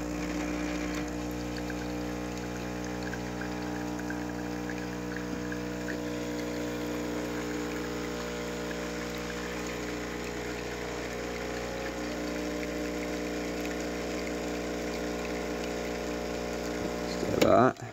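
Espresso machine pump drone running steadily and fairly close as water drains through to warm the cup, a continuous mechanical hum with a brief louder clatter at the end.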